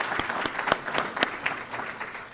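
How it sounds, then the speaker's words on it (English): Moderate applause from a summit audience, a crowd clapping steadily with a few louder individual claps standing out, heard from a short distance. "Let's give her a round of applause"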